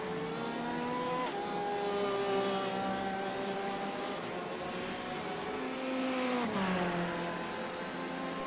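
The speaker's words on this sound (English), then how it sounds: "The car has just passed by. I got the nice noise going on." A race car in an online endurance racing sim at Silverstone passes by, its engine note dropping in pitch twice as it sweeps past, loud and steady with no talk over it.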